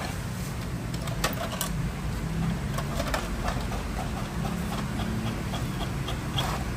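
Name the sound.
inkjet printer printing test page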